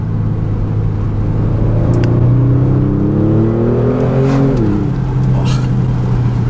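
Kia Stinger GT engine pulling in second gear, a loud droning note rising steadily before a quick drop at the shift, heard from inside the car.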